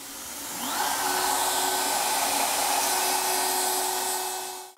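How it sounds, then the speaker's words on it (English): A shop vacuum roars continuously during a custom guitar build while a shelf is routed into the guitar body, rising after a brief start and holding a loud, steady whine with a faint tool tone beneath. "All right, let's crank the vacuum back up."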